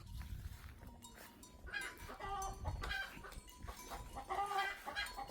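Chickens cluck and call repeatedly around a rural Thai farmyard, several birds close by with overlapping bursts of clucking and no talking.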